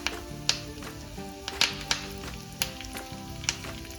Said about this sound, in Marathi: आता आपण त्याच्यात कढीपत्ता टाकूया 4-5 पानं.